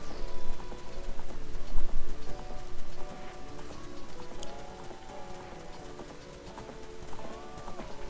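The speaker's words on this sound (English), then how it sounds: "I love riding horses." Horses gallop in The Legend of Zelda: Ocarina of Time with rapid, rhythmic clip-clop hoofbeats, moderately loud, over a layer of game music.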